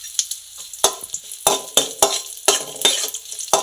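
Tomato chutney ingredients with garlic, dried red chillies and curry leaves are stirred in a pan, a spoon scraping and clanking in sharp irregular strokes over a light sizzle.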